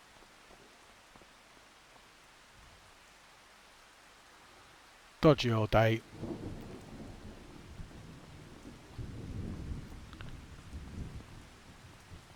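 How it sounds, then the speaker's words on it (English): A sharp thunderclap breaks over steady rainfall in Farming Simulator 25, followed by rumbling rain noise. Someone speaks briefly over the storm. "Rain doesn't seem to be letting up."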